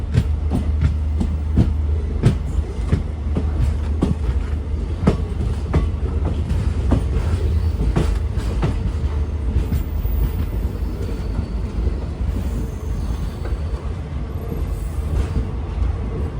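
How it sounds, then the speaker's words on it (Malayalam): Sethu Express train rolling through Rameswaram railway station, with steady heavy rumble and repeated clickety-clack of wheels over rail joints, loud and close throughout with no talking. "ഇത് സേതു എക്സ്പ്രസ് ആണ്."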